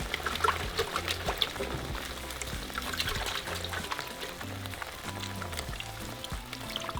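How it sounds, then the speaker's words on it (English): Half a cup of water pours steadily into a blender, a continuous trickling splash with shifting pitch as it fills, close by and without talk. "I'm going to add 1/2 cup of water into my blender"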